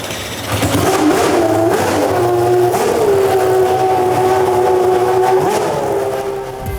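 A Formula 1 car's V10 engine revs as it pulls out of the paddock, a loud, sustained, high-pitched howl that climbs and holds for several seconds before easing off near the end.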